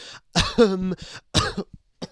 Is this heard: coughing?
yes